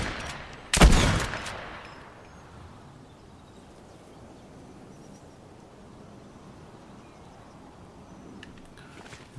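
A single sharp, loud gunshot from an Xbox video game cracks near the start, followed by a fading tail and a long, quiet hiss of ambient game noise.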